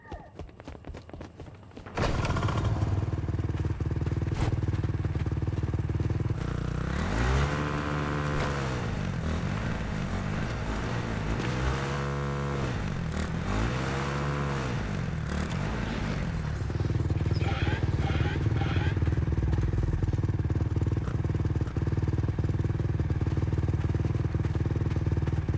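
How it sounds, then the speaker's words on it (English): A motorcycle engine in the video game Fortnite runs loud and steady, with three rising and falling revs in the middle and a low rumble throughout. "Actually, I think I'm gonna get the motorcycle ready."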